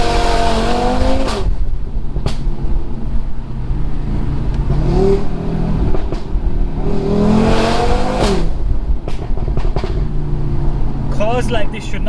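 A 520 bhp Audi RS3 hatchback engine revs hard and accelerates on a public road, loud and close from inside the car, with repeated rising pulls, gear-change breaks and crackles toward the end.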